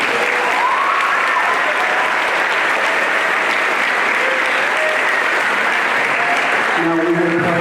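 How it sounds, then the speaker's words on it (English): An audience at a school band concert applauding steadily and loudly for the band students, a dense continuous clapping that fills the room, with a few musical notes entering near the end. "So please give these students a round of applause."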